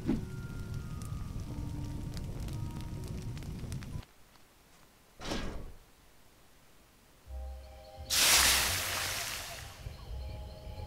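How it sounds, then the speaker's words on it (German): In the adventure game A Vampire Story, a hot shovel melting ice makes a sharp hiss that swells into a broad, steamy rush for a couple of seconds, preceded by a brief whoosh and low ambient game sounds. "Die heiße Schaufel hat das Eis geschmolzen und daraus hat sich eine saubere kleine Pfütze gebildet."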